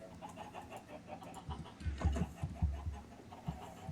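Chickens on a chicken farm in a video game, low clucks and short bursts of soft bird calls repeating quietly in the background.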